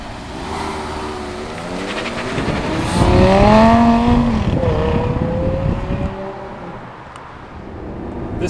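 A 2009 Lamborghini Gallardo LP560 with its 5.2-liter direct-injected V10 accelerates hard from inside the car. Its engine note climbs in pitch through a rising, roaring sweep, then eases back to a steady drone.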